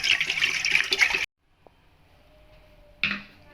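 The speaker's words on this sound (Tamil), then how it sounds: "இந்த பால் இதில் நான் சேர்த்துக்க போகிறேன்" Milk is poured into a pot for paal pongal, giving a close, splashy gush that stops suddenly, then a brief quiet and a short second splash.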